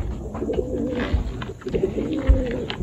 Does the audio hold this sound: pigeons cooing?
yes